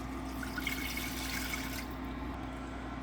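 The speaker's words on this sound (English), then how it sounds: "3/4 cup of water" Water is poured into a pan holding melted butter and couscous, making a steady splashing trickle that stops partway through, leaving a quieter background.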